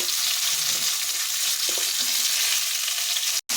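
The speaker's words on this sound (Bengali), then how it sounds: "আগের থেকে যে কুমড়োগুলো ভেজে রেখেছিলাম সেগুলো দিয়ে দিচ্ছি দিয়ে একটু ভালোভাবে ভেজে নেব" Pumpkin pieces frying in mustard oil in a pan, a steady loud crackling sizzle throughout with a few soft stirring scrapes and a brief dropout near the end.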